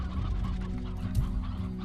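Hens cluck and squawk in the Slime Rancher video game, a busy overlapping chorus of fowl calls over a steady low background hum.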